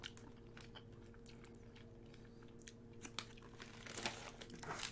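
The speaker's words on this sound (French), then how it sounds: "C'est une petite boule qui se transforme en chewing-gum quand vous la mâchez." Strawberry-flavoured chewing gum, a small ball that turns into gum, is chewed close up with soft repeated wet crunches and clicks, quiet and without talk.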